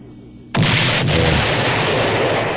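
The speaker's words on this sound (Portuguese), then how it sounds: "Temos, portanto, o registro do áudio da explosão." A vehicle blown up by robbers on the highway between Açu and Mossoró, Brazil, caught on recording: one sudden loud blast, then a sustained roaring rumble of debris and noise.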